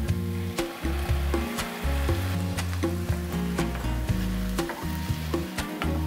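Mushrooms sizzle loudly in a hot pan as balsamic goes in, a steady dense frying hiss with repeated clinks and scrapes of stirring throughout.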